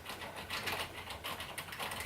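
Typing on a Cherry MX Board Silent mechanical keyboard makes soft, muffled, fairly even keystrokes at a steady quick pace, quiet and close up, with no talking.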